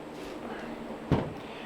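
A packed freezer door closes with a single dull thump, close and fairly soft, over a low background hum.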